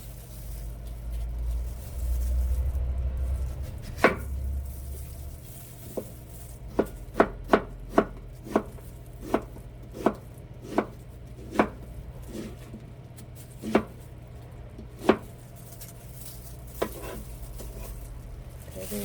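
A knife slices pear on a cutting board, with a run of sharp, close chops in an uneven rhythm that follows a low rumbling start and trails off into occasional single cuts.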